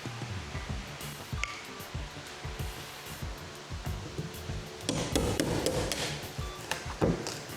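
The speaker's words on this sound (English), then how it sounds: "Let's grab a chisel, see what we can do." A chisel is driven into rotted, delaminated wood on a boat, repeated close knocks and scrapes in an uneven rhythm, with a rougher rushing patch of scraping later on.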